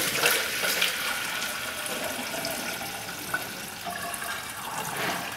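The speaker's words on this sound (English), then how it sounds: "I'll dump some more coolant in it." Coolant poured into a Subaru EJ25D 2.5 engine's cooling system, a steady close splashing and trickling flow that runs continuously throughout.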